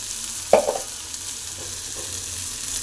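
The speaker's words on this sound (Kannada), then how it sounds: "ಎಣ್ಣೆಯಲ್ಲಿ ಫುಲ್ಲು ಫ್ರೈನ ಮಾಡ್ಕೊತೀನಿ" Vegetable palya frying in oil in a pan as chili powder goes in, a quiet steady sizzle with a soft stirring scrape near the start.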